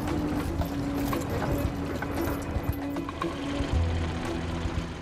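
Horses pulling a stuck early racing automobile out of deep snow near South Bend, Indiana, their hooves clip-clopping steadily through a continuous dense background of mechanical rumble and scattered murmuring voices.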